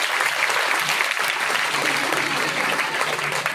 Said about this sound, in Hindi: इनके लिए जबरदस्त ताली होता है।